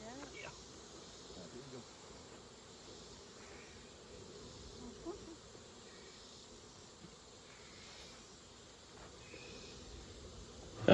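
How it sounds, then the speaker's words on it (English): A large swarm of honeybees being transferred from a swarm hive into a standard hive, their dense, steady buzzing and droning continuous and fairly close throughout, with no talking. "giant swarm of buzzing bees that brings out the primal fear in me"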